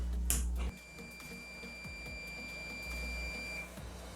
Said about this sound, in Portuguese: Vamos botar o multímetro na função BIP e vamos ver o relé térmico atuando.